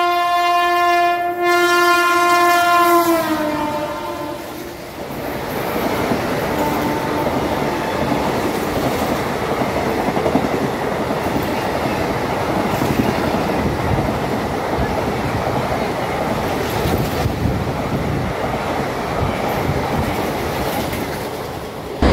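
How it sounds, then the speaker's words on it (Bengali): The 12348 Shahid Express pulls into Prantik station, opening with a loud sustained horn blast that gives way to a long, steady rumble and clatter of passing coaches. "ট্রেন জাস্ট অ্যানাউন্সমেন্ট হলো 12348 শহীদ এক্সপ্রেস ঢুকছে"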